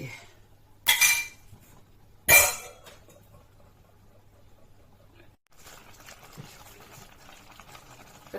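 A Thai catfish curry with wild garlic simmers in a pot with a low, quiet bubbling. Two sharp clattering utensil knocks stand out early, and there is soft background talk.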